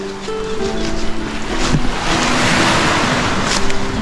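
Waves crash and wash along a rocky coast with a seawall at San Fernando, Camarines Sur, with a loud, steady rush and gusts of wind buffeting the microphone.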